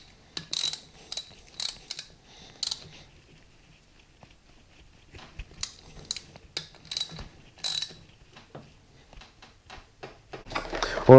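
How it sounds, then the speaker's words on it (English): A hand ratchet tightens a bracket on a Classic Mini 1275 A+ engine during a rebuild, several quick bursts of close clicking with pauses between them, ending with a louder clunk. "we're just going to install this and just tighten it up"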